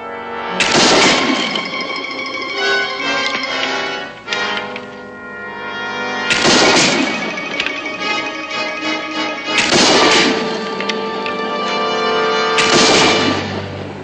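A muzzle-loading rifle is fired outdoors in a frontier setting, about four loud blasts spaced a few seconds apart, each with a long ringing decay and no talking.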